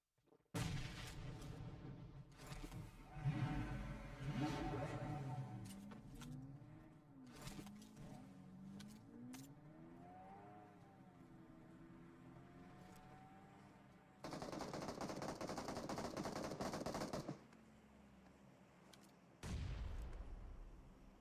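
Grenade blasts and gunfire in a battle royale shooter tournament match, with scattered shots and thuds, a few sustained noisy bursts, and a quiet, fairly distant mix overall.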